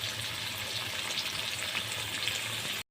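Breaded chicken panne fries in oil in a pan with a continuous bubbling hiss and crackle, steady and close, ending abruptly.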